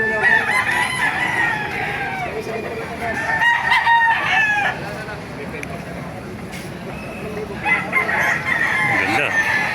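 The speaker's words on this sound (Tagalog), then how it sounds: "Pakita ko sa inyo mga manok dito sa Baliwag," Roosters crow repeatedly and chickens cluck at a busy poultry market in Baliuag, Bulacan, several birds overlapping loudly and close, with crowd chatter and background hubbub throughout.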